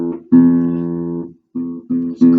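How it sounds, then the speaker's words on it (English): A badly out-of-tune acoustic guitar strummed four times, each chord ringing with sour, clashing pitches; a long sustained strum comes first, then three shorter ones separated by brief gaps, close and clear with no talk. "you don't want your guitar to sound like this."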